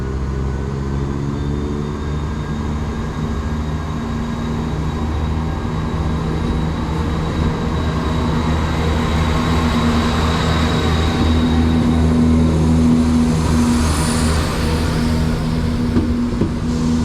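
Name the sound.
train departing from station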